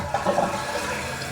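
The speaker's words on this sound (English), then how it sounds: "Now I'm gonna flush the toilet, make sure it flushes well." A Kohler toilet flushes after a repair, a short close rushing gush of water that holds steady without talk.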